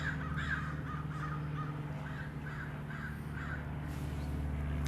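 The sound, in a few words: crows cawing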